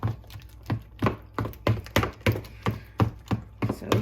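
A fork mixing banana bread batter in a bowl, heard as about a dozen steady, rhythmic tapping strokes against the bowl, close and fairly quiet.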